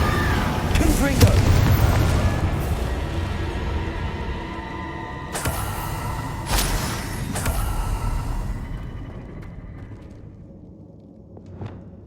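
Confringo blasting spells exploding in Hogwarts Legacy: a heavy booming blast with rumble early on, then a few sharp cracking bursts spaced apart, trailing off into quieter ambience and a faint whoosh near the end.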